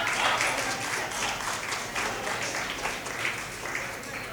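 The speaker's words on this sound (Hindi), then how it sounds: "बजा ताली" Audience at a kavi sammelan poetry recital in Sambhal claps steadily, a dense, continuous patter of applause that holds at a fairly even level throughout.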